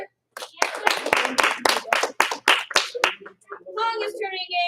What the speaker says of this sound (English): Give it 1 clap, 2 claps.